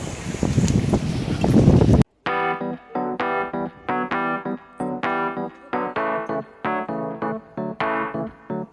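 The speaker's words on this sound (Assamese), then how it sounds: "বা ওপৰত কি মজা বতাহ" Sea wind buffets the microphone on a hotel rooftop overlooking the sea at Digha, a loud gusty rush for about two seconds. It then cuts to rhythmic singing with the wind gone.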